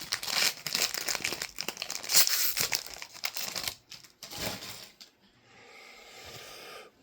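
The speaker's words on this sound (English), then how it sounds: "Last pack, Mojo. We'll be done with our ripping Topps Chrome." A Topps Chrome trading card pack is torn open by hand, with close crinkling and ripping foil wrapper sounds for several seconds before quieter handling.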